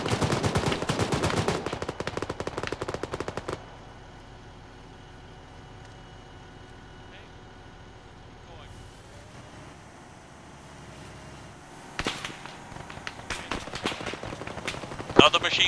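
Bursts of machine gun fire in the military game Arma crackle in a rapid volley at the start, then fade to a low background before more scattered shots return near the end, with quieter stretches between.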